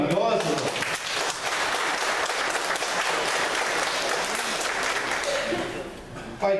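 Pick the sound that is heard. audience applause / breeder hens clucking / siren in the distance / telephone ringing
audience applause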